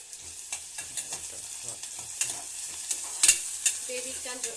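Onion fries in oil with cinnamon, cardamom and cloves for a baby corn masala gravy, a quiet sizzle broken by repeated close spoon scrapes and taps as it is stirred.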